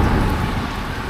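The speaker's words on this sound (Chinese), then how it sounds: "又在下雨了，地上滑" Rain falls steadily during a cycling trip from Gua Musang toward Kota Bharu on Malaysia's east coast, making a brief, loud, broadband wash of close hiss with no voices.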